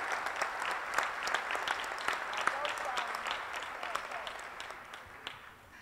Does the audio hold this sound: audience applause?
yes